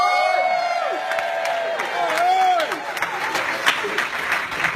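A crowd at a business bootcamp event claps and cheers loudly with whoops, while a voice speaks briefly over the start of the applause.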